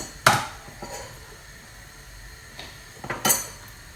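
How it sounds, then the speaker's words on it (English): A chopping board is flipped over on a kitchen counter, two sharp clattering knocks of board on surface about three seconds apart, with faint light taps between. "so I'm going to turn the board over."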